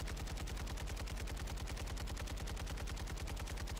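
Sustained rapid automatic gunfire in Call of Duty Warzone 2.0, a steady machine-gun stream of evenly spaced shots running unbroken from start to finish at close range, with no talk.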